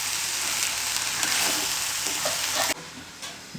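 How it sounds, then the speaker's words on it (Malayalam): Chopped banana flower is stirred in a cooking pan, a steady close sizzle under scraping strokes that cuts off abruptly near the end. "നമ്മൾ നന്നായി മിക്സ് ചെയ്ത് കൊടുക്കാം."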